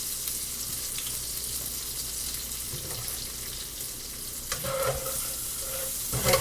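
Butter and garlic sizzle steadily in a hot pan for seared scallops, a close, continuous frying hiss with a few louder spits and clinks near the end. No voices.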